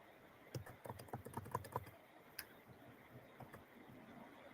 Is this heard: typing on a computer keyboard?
yes